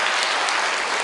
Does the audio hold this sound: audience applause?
yes